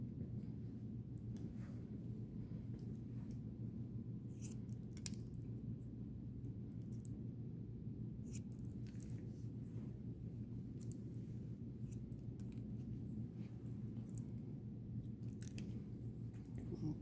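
Hair being cut with 6.5-inch shears, a quiet series of crisp snips at irregular intervals over a low steady background hum, close but faint.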